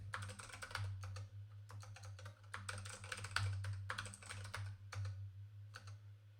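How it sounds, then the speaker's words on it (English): Password typed on a computer keyboard at a desk: steady bursts of clicky keystrokes with brief pauses, close and clear over a constant low electrical hum. "Let's try to type the password right."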